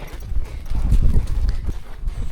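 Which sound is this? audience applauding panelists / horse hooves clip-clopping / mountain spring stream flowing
horse hooves clip-clopping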